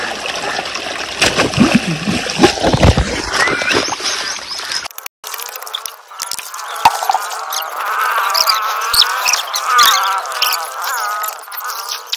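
Irrigation water gushes and splashes loudly at first, then settles into a steady trickling flow across a farm field, with faint insect or bird sounds around it.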